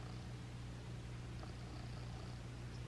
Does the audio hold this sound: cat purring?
yes